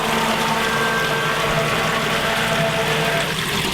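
A Liberty Pump Omnivore grinder pump clears air from its volute and starts pumping water. It makes a steady, close whooshing of churning water over a faint motor hum, with no speech.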